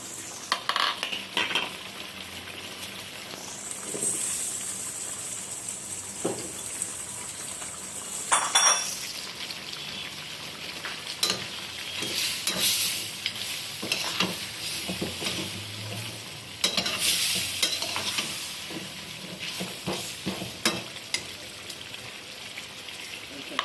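Beef and vegetable stems sauté in a pot with hot water, a soft simmering sizzle under repeated spoon scrapes and clinks against the pot, with a few louder stirring bursts.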